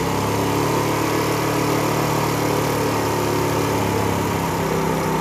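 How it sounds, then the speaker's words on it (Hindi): A Honda CD70 motorcycle engine idles at a constant, even pitch during carburetor adjustment, close and continuous with no voices. "मोटर बाइक स्टेबल है और आरपीएम स्लो अप डाउन नहीं हो रहा"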